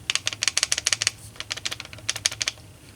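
A SIG Sauer MPX P 9 rifle is shaken so its loose upper and lower receivers rattle, making rapid bursts of sharp metallic clicks in quick rhythmic clusters, close and fairly loud, with no talking.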